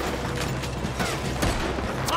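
Gunfire in Red Dead Redemption 2 during a robbery shootout: a dense, continuous stretch of sharp shots and mechanical clatter, loud and close, with a voice reacting briefly.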